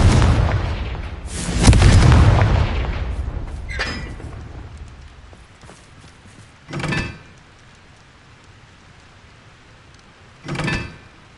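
Confringo explosion spell in the Hogwarts Legacy video game, a heavy boom with a long rumbling decay followed by a few shorter, sharper blasts spaced apart.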